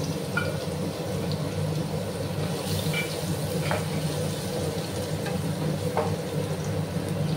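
Crushed garlic fries in a pan for a Bengali dheki shak dish, giving a steady, fairly loud sizzle with a few faint clinks of utensils and no talk.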